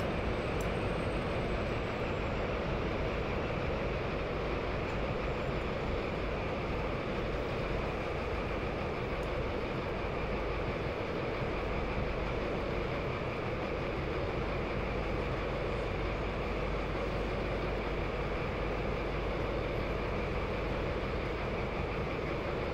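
A Baureihe 204 diesel locomotive runs on the Maintalbahn in Main-Spessart in Train Sim World. A steady diesel drone mixes with rolling rail noise, loud and unbroken for over twenty seconds, with no talk.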